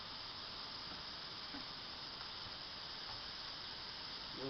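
Butter and onions sizzle steadily in a pan while a mini quiche is being made, a constant, even hiss that is faint and close, with no talking over it.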